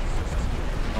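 A dense, continuous rumble from a T6 tank exploding in War Thunder, with heavy low booming and crackling debris noise that fills the whole moment, loud and near.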